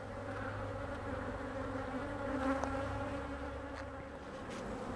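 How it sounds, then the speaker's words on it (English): Honey bees buzz steadily around the blocked entrance of a hive during a fall inspection, with robber bees about, a dense continuous hum from many insects at moderate distance, with no talk. "the home bees will settle there on the front, and the bees that are trying to rob will go back to their hive"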